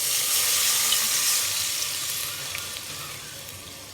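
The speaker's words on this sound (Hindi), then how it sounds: "2 गिलास हम पानी के डालेंगे।" Water pours steadily into a cooking pot for rice, two glassfuls going in as a continuous hissing splash close by, with no one speaking.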